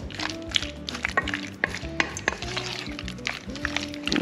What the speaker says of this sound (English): fry that down and get the drippings off of this marinade, and then go in with your onion and garlic and ginger